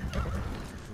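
Kage, a horse in the video game Ghost of Tsushima, lets out a short whinny over the clip-clop of hooves, moderately loud and close within a one-second burst.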